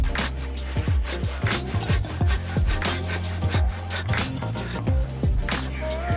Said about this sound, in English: we just got this tenon roughed in with our handsaw